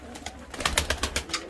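Tumbler pigeons cooing in a rhythmic series of soft, pulsing calls, fairly faint and steady, with no voices over them.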